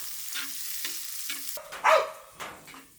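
Home-grown curry leaves sautéing in a pan for a toddy-shop style fish curry, with short rhythmic stirring scrapes over a light sizzle and one louder clatter near the middle.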